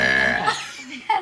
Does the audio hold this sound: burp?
yes